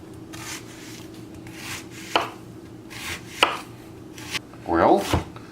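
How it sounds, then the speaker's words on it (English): A knife coarsely chops an onion on a cutting board, giving a few separate sharp knocks and scraping strokes at close range, with no one speaking. "Let's coarsely chop it."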